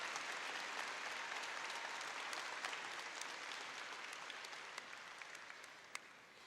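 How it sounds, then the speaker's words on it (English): Steady applause from an audience at a 2021 high school graduation ceremony honoring graduating students, a dense, continuous clapping with no talking, fading slightly toward the end. "Please join me in applauding these students and their hard work."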